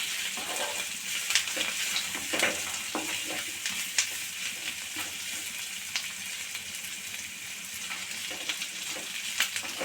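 Gooseberry chutney with curry leaves sautéed in a pan, a steady close sizzle with frequent scraping stir strokes throughout, no talking.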